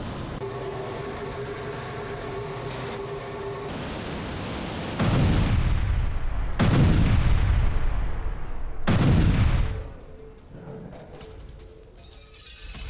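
Russian Sukhoi Su-25 air strike bombardment, heard as a steady rumble that gives way to several heavy, booming blasts with long rolling decays, then a quieter tail.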